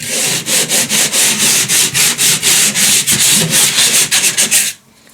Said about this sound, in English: It's a 120 grit drywall sanding screen.